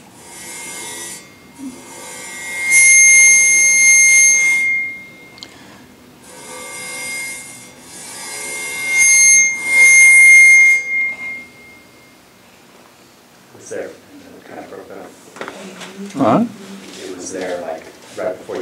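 A bow is drawn across the edge of a sand-covered Chladni plate, giving two loud, sustained ringing tones a few seconds each. Speech and handling noise follow.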